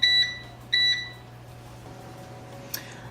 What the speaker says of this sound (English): I'll set my timer for 15 and check it then.